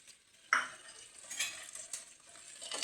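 Ginger garlic paste sizzles in a pan for tomato rice while a spoon stirs and scrapes against the metal. The frying is soft and close, opening with a clank of utensil on pan, and no one speaks.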